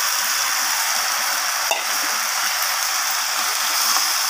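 Fried bitter gourd and okra are stirred through a spice masala that has a splash of water in it. A steady, loud sizzle and frying hiss runs throughout, with a single brief clink of the utensil partway through.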